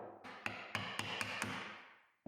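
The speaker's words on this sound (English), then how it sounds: "just got the rest out with a nice chisel and mallet" Steel chisel struck by a wooden mallet while chopping dovetail waste from a houndstooth joint by hand, a handful of sharp, evenly spaced taps ringing close over a steady background of workshop noise.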